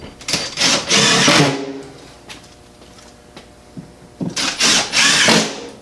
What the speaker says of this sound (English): we're going to put some more screws in it